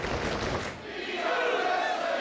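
A capacity crowd fills the White Eagle hall in Worcester, Massachusetts, during a pro wrestling match, a loud continuous roar of voices and shouting that dips briefly before swelling again.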